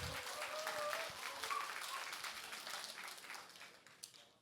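An audience at a food science talk applauds to welcome a speaker, a dense, steady clapping that stays even and then thins out toward the end, heard from a distance.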